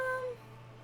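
A cat meowing in the video game Disco Elysium, a single short, faint tonal meow that fades quickly over a low background hum.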